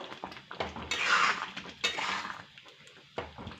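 A utensil stirs vermicelli kheer in a pot, making uneven bursts of metal scraping and clinking against the vessel with brief pauses, close and fairly loud.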